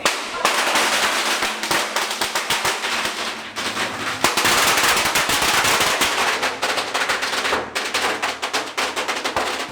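Firecrackers and fireworks go off at a shrine in Phuket's old town, a dense, loud, continuous crackling barrage of rapid pops with brief lulls, close by.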